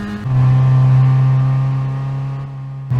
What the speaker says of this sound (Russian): Давай, двигатель, крути обороты.